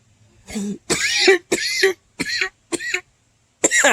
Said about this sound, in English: God just made you cough